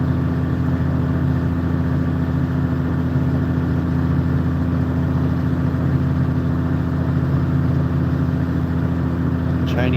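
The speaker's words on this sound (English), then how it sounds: "it's a nice Isuzu diesel, 6-cylinder inline" A six-cylinder inline Isuzu diesel engine on a Chinese excavator runs at a steady loud idle nearby, a constant low droning rumble throughout.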